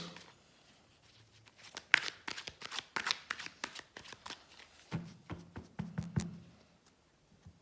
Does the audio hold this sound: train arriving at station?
no